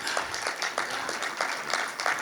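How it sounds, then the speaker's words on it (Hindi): Rhythmic clapping from a poetry gathering audience, bursts of claps in a regular beat repeating roughly every quarter second, moderately loud with no talking. "आपको सुनने के लिए ताली बजा के बता दें कि हम आपके लिए भी हैं।"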